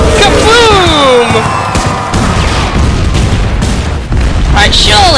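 Cartoonish explosion bursts from the console game Super Exploding Zoo, a rapid cluster of booming blasts mixed with descending whistles and playful game effects, loud and continuous under an excited voice.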